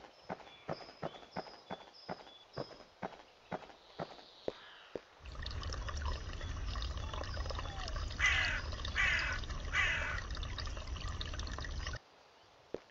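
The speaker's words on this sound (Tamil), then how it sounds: "இந்த தண்ணி சவுண்டும் பார்த்தீங்கன்னா கிட்டத்தட்ட அந்த ஜாம்பி வர சவுண்டு மாதிரி தான் இருக்குது" Water sound in the Pumpkin Panic video game: after a run of sharp, evenly spaced clicking steps, a steady rushing, splashing wash of water swells for several seconds, then cuts off abruptly.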